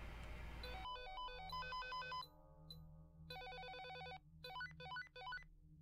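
A synthetic electronic transceiver ringtone from the video game Dead Rising 2 plays rapid beeping melodic patterns in repeated bursts, clear and steady over a low hum.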